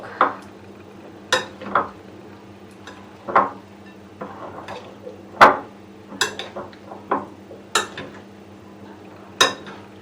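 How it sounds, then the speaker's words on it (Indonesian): Spoon knocking and scraping against a bowl while stirring a risoles filling, irregular clinks, about a dozen sharp taps over a low steady background hum. "Aku masukin semuanya, lalu diaduk."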